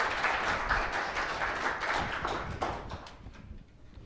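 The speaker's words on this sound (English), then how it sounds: "applause for our fine volunteers" An audience at a lecture on the 2017 total solar eclipse claps for volunteers, a burst of moderately loud applause that thins out and fades toward the end.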